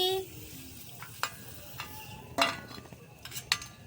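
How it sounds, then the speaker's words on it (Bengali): Puchka (fuchka) shells frying in hot oil, heard as a soft continuous sizzle broken by several sharp metallic clinks and scrapes of a utensil against the pan. "এভাবে চলো বাকিগুলো ভেজে নিয়ে ফিরে আসছি"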